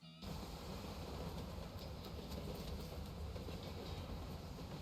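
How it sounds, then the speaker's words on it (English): A video game train rolls steadily on its rails, a continuous dense rumble with faint rhythmic clatter that holds evenly throughout, no voices. "I stole this train fair and square."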